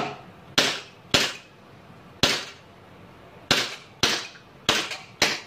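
Glock 26 Gen5 gas blowback pistol being test fired after a leaking magazine repair, seven sharp cracking shots spaced irregularly over a few seconds, close and loud with a faint hiss between.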